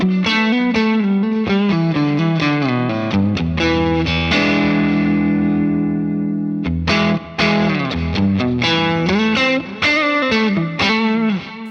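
Electric guitar played through a Fractal FM3 with the effect switched off: loud, continuous distorted notes and chords ring out, with one long sustained chord in the middle and no speech.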